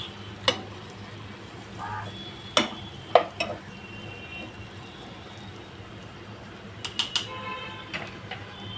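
Tomato and asafoetida being stirred in a pan, quiet background with a handful of sharp spoon clicks and taps against the metal, a few of them bunched together.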